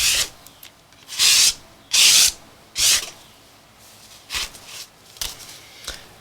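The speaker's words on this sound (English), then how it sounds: "Alright, let's use one of these scraper tools here." A scraper tool drags craft paint paste across paper in several separate rasping strokes, each a loud, close, hissing scrape, with quieter, shorter passes toward the end.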